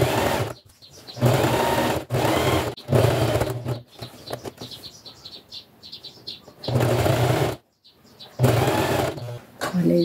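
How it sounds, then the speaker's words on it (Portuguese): A sewing machine runs in repeated loud bursts as a hem is stitched on light fabric with white bobbin thread, with short pauses between runs and someone talking quietly over and between them. "aqui nessa parte você passa uma costura com meio pezinho de máquina"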